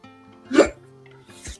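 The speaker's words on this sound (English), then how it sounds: "I think I've got hiccups now." Two sharp hiccups from a person, about a second apart, close and fairly loud against a quiet background.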